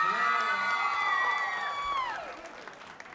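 At a stand-up comedy club, married audience members respond with whoops and cheers that rise together, then trail off into a few scattered claps.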